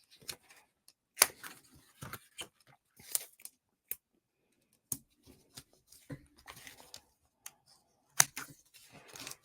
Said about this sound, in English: just have some scissors and cut it